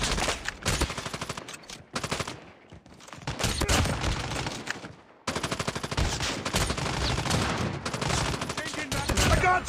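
Call of Duty Mobile gunfire: dense bursts of rapid automatic shots, loud and close, broken by a brief lull and then resuming in long sustained volleys, with game sounds and voice cues mixed in.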